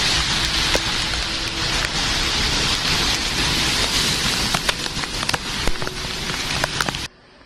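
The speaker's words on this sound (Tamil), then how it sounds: "வரலாறு காணாத பெருமழையால் நிலை குலைந்து கிடக்கிறது மும்பை மாநகரம்" Heavy monsoon rain pours in flooded Mumbai, a dense continuous hiss of rain on surfaces with scattered sharp drips and knocks, cutting off abruptly near the end.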